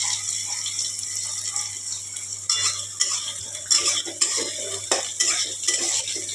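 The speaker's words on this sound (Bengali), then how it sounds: "পেঁয়াজগুলো ভাজবো।" Onions frying in a pan with black cumin seeds make a loud, steady sizzle up close, broken by repeated scraping and clinking strokes of a metal spatula as they are stirred.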